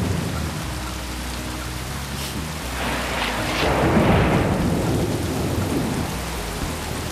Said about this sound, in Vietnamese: Anh ước gì trời cứ mưa như vậy suốt cả tuần luôn.